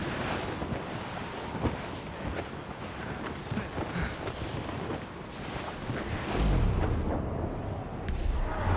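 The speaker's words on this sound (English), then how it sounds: "It's quite a rough squall, Cap." Squall wind and rough sea around a sailing ship in the video game Assassin's Creed Rogue: a steady, loud roaring wash of wind and water, swelling into a deeper rumbling surge near the end, with no voices.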